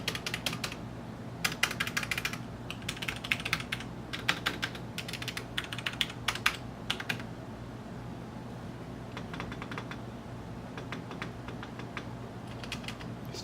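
Rapid clacky keystrokes on a Das Keyboard 5Q mechanical keyboard, arriving in bursts with short pauses, close and fairly quiet over a low steady hum, with slight resonance in the Q key.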